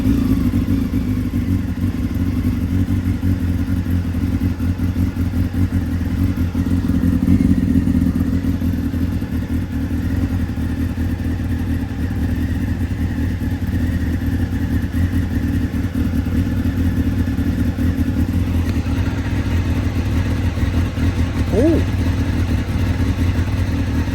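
Honda CB600F motorcycle engine running steadily after a regulator rectifier repair, a continuous close, loud idle with a low, even rumble and a slight rise in revs near the middle, no voices.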